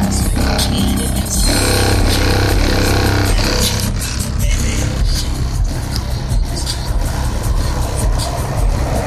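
A loud, steady truck engine idles close by, a continuous low rumble with faint scraping and mechanical clatter over it, dipping as the alternator loads the engine.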